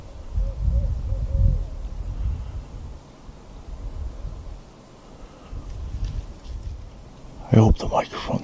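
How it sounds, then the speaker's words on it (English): Low hoots sound faintly in the distance, a few spaced calls under wind noise, followed by a short burst of close handling rustle. "there's an owl out there somewhere. Sounds like it's a good distance off."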